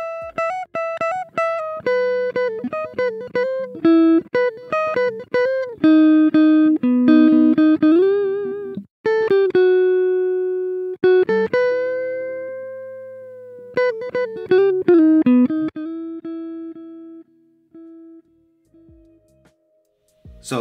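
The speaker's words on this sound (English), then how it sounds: "I'm gonna play it without any compression on it so you can get a grasp on what the dry signal sounds like" Electric guitar solo played dry with no compression or effects, loud, close and alone, with bent notes, quick phrases and long sustained notes that fade out at the end.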